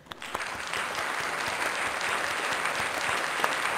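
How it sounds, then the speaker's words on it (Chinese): A television studio audience on a Chongqing talk show breaks into sustained applause, dense clapping rising quickly after a few early claps and holding steady to the end. "我们 鼓掌鼓掌鼓掌。"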